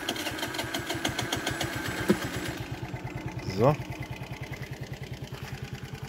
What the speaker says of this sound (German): Muss ich nochmal den Motor anmachen.